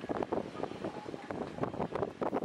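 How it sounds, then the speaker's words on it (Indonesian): Strong coastal wind on the Sibolga shore, gusting in uneven bursts that buffet and roar against the microphone. "Akibat angin kencang yang melanda kawasan pesisir pantai Sibolga"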